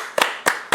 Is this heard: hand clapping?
yes